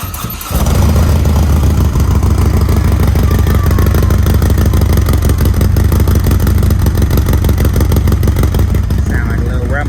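A 2009 Harley-Davidson motorcycle with loud exhaust fires up from a cold start after a brief click, then holds a loud, close, steady rumbling idle with a pulsing, uneven throb that runs to the end.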